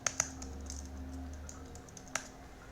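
Typing on a computer keyboard, a few quick close key clicks at the start and one more near the end, with quiet between them.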